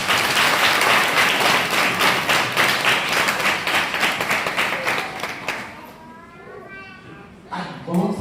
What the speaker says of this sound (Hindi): एक जोरदार ताली बजाओ.